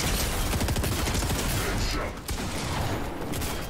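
Dense, continuous bursts of video game gunfire in a Fortnite duos match, loud and close with rapid overlapping shots and a brief dip near the end before the firing resumes.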